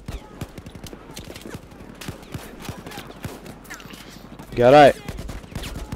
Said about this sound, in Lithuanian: Va, iš ten šaudo durniai.